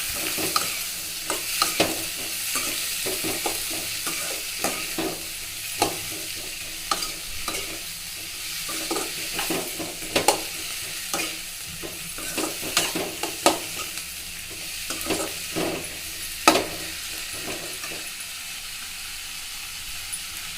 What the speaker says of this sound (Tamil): இது கூடவே இந்த சீரகம், மிளகு சேர்த்துக்கலாம். நல்லா வதக்கிக்கலாம்.